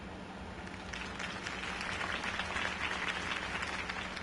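A crowd applauds Harvey Dent's campaign speech in Batman: The Telltale Series, with a dense wash of clapping that swells slightly and holds steady throughout.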